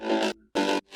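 Two short, chopped synth stabs from a progressive house track shaped with ShaperBox at the mid frequencies, each cut off abruptly with a brief silence between them.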